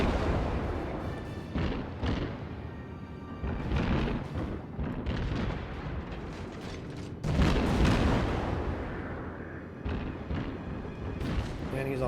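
Warship guns fire high explosive shells in the World of Warships naval battle game, a series of heavy booming salvos and rumbling blasts over constant engine and ocean noise.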